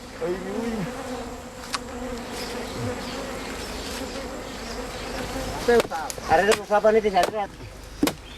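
Bees buzz in a dense, wavering drone around an unsmoked wild bee's nest in the Maluku forest while people reach in for honey; someone speaks over the swarm and sharp chopping knocks sound toward the end.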